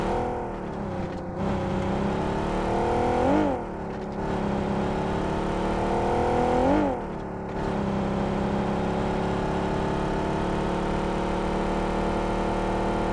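A Mirado car engine hums steadily while driving in a battle royale video game, its pitch rising and dipping with gear shifts in a few surges, loud and up close with no talk over it.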